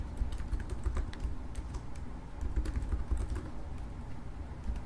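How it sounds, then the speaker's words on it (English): Rapid, irregular keystrokes on a computer keyboard clatter steadily at close range while someone types an email address into a Swift programming project in Xcode, with no voice over the typing. "We're going to type in mail to, and then whatever email address you want it to mail to."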